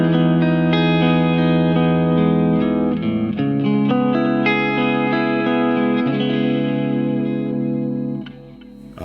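Clean guitar tone through a Crazy Tube Circuits PHI Golden Ratio compressor pedal, with squeezed, even pick attacks on sustained chords and arpeggiated notes that ring out and fade at the end, played alone.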